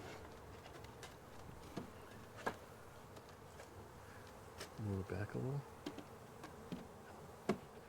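Honey bees buzz around an exposed, attached comb, a faint steady hum with a louder burst midway, while a person speaks briefly nearby.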